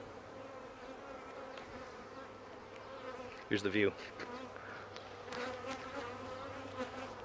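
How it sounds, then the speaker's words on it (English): Honey bees buzz steadily around a hive at close range, a soft continuous hum with a brief clatter midway and a few spoken words. "the bees are just coming all after my face"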